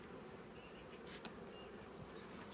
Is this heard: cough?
no